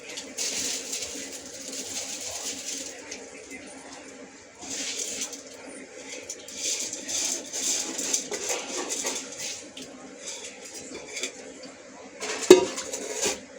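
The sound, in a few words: stirring rice in a cooking pot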